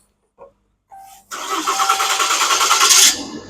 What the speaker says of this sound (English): I'm going to start it up so you can hear the difference from before to now.